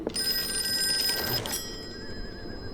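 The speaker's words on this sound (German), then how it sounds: "Telefon da." An old telephone bell rings in a Call of Cthulhu video game, a steady metallic trill for about a second and a half before cutting off, leaving a faint electronic tone over low ambient noise.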